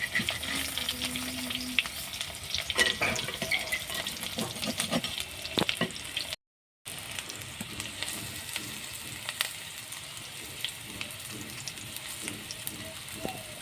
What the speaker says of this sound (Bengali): তো আমি বেসনে ডুবিয়ে ভাজছি না, শুধুই ভাজছি।